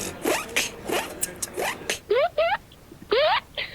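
A beatboxer vocally imitates a zipper being pulled closed, producing several quick rising zip sweeps in a row, close and crisp, alongside other short percussive mouth sounds.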